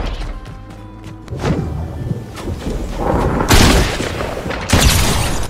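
Heavy gunfire in the Fortnite battle royale game, loud booming shots and impacts that land in bursts and build in intensity, with a sharp blast near the end.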